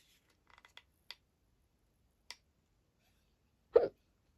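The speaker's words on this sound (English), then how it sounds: "Oh, sorry, I've now got hiccups," A few faint, brief hiccups from a person, spaced out and quiet at first, ending with one louder, fuller hiccup near the end, with no talking.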